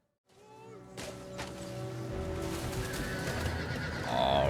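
Armored Armenian cavalry horses neigh and whinny in a Rome II land battle, with several clear calls rising over a growing din of galloping and clashing that swells louder toward the end.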